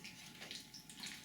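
Pungent liquid fertilizer, freshly mixed, is poured into an indoor tomato plant container, making a soft, continuous trickling splash that stays faint and steady without pauses.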